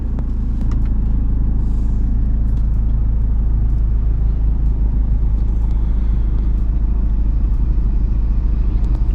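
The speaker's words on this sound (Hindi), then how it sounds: "हम इसलिए रुके हैं क्योंकि यहाँ से ट्रक आ रहा है एक" A truck passes close by on a narrow road on a Delhi to Nepal road trip near the Raxaul border, a steady heavy low engine rumble held throughout at near distance with no talk.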